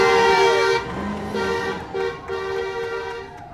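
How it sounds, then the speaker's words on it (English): Car horns honk loudly and repeatedly in support at a roadside gathering, long toots overlapping near the listener with traffic rumbling beneath. "we've heard a lot of that, a lot of the honking"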